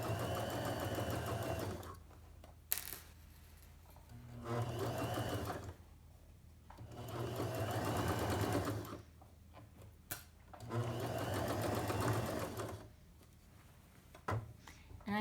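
A sewing machine stitches fabric along a seam for understitching in several running bursts of steady rapid whirring, each a few seconds long, separated by short pauses. It sounds fairly close and is mostly heard on its own.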